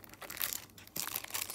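Packaging for a 25th-anniversary Pokémon Celebrations booster is opened by hand, producing brief crinkling and tearing rustles in two short bursts with quiet gaps, close and fairly soft.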